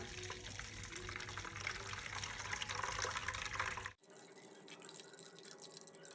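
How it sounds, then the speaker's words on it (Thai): Fingerroot juice strained through a fine-mesh sieve gives a soft, steady trickle and drip of liquid that grows quieter partway through, with no one talking. "ใช้กระชอนตาถี่กรองนะคะ แล้วก็จะกรองเอาน้ำกระชายเข้มข้นนะคะ"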